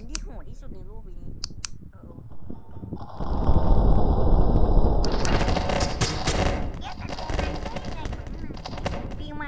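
Guns fire in the Melon Playground video game: a handful of sharp single cracks come first, then a dense, loud burst of rapid automatic fire mixed with clattering. A voice talks across the sequence.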